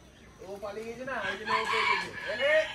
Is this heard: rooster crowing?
yes